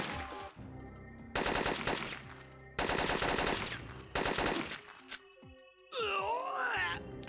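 Bursts of automatic gunfire in Syphon Filter come in several rapid, loud volleys of a second or so each, separated by short pauses, with grunting and groaning voices and other game effects between them.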